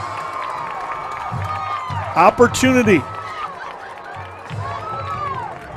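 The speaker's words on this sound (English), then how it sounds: "has got this crowd on their feet" A high school football crowd at a Macarthur vs Noble game cheers and roars after an onside kick recovery, a sustained wash of voices with a sharp burst of shouts and whistles midway, all under a commentator's steady talk.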